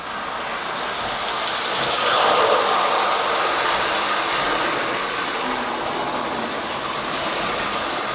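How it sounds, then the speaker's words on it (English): A model train locomotive, a smoke-producing engine on a hobby layout, runs with a steady, continuous mechanical rumble and hiss at moderate level, swelling slightly in the middle with no voices. "you'll see that he's chugging when we're operating him."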